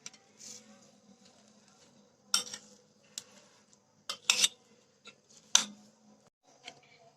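Potato roll mixture with chopped coriander stirred in a bowl, giving sparse clinks and scrapes of a spoon against the bowl, a few sharp taps between quiet gaps, close up.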